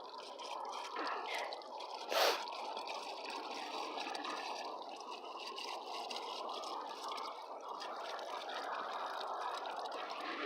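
Water from a watering can pours steadily onto soil around the roots of a newly planted bare-root plant, a soft continuous trickle and gurgle with a brief splash near the start.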